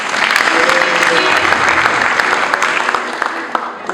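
A crowd claps in applause for a local official at a church gathering in Musanze, with dense, steady clapping that fills the whole stretch.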